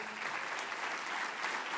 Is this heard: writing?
no